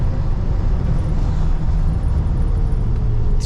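A 1985 Chevy K10 short-bed truck with 53k miles cruising in third gear at speed, with a loud, steady low engine drone, road rumble and wind noise, unbroken and close.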